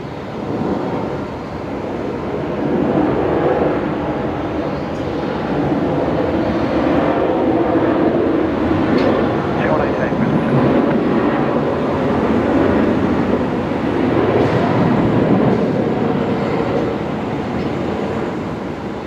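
A Virgin Australia Boeing 737 airliner touches down on runway 19 left at Brisbane Airport in the evening, a broad, rumbling roar that swells and holds steadily throughout, heard from a distance.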